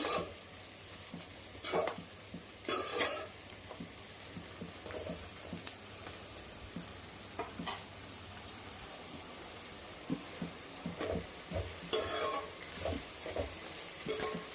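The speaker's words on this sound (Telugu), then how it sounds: "కలర్ చేంజ్ అవుతుంది కదా, ఇంకొక 5 మినిట్స్ వేయించుకున్నాము" Bitter gourd frying in a pan for a tomato curry, a quiet, low sizzle broken by intermittent clacks and scrapes of stirring, no speech.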